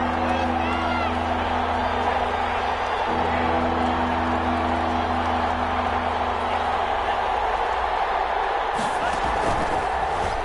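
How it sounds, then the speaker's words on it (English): Stadium crowd noise in an American football video game, a steady dense roar of cheering fans that runs throughout, with a commentator talking over it. "Crowd getting in it a bit already."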